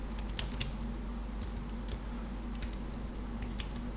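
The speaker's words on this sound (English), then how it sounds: "now all I have to do is to type Python" A computer keyboard being typed on, steady irregular clicking of keys, close and fairly quiet, with no voices.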